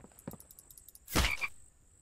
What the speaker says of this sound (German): War das da irgendwo ein Frosch?